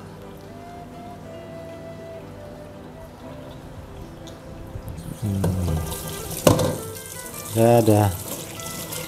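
Tap water runs steadily through a beef intestine as it is washed in a kitchen sink, splashing louder near the end while someone speaks briefly.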